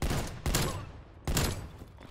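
Two loud, close bursts of Vargo 52 rifle fire in Call of Duty Cold War, each a rapid volley of shots cut short, with a brief gap between them.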